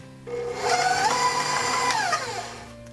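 An electric hand mixer whirs steadily through cream cheese and sugar for a peanut butter cheesecake, its motor pitch rising briefly mid-run before winding down, close and alone with no voices.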